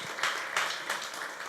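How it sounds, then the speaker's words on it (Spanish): A church congregation applauds together, a short burst of steady, mid-distance clapping with no talk over it. "Dele un aplauso al Señor."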